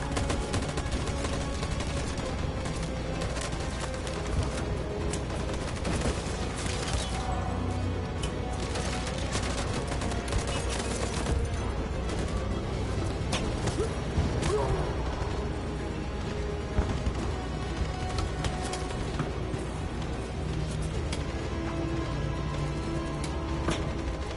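A gunfire volley in Detroit Become Human: a dense, continuous barrage of many guns firing at once with booming impacts, loud and unbroken for the whole stretch.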